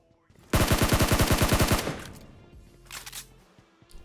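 Rapid automatic AKM rifle fire in the mobile battle royale game PUBG Mobile, a loud close burst of about fifteen evenly spaced shots lasting over a second, then fading echoes and a couple of faint bursts further off.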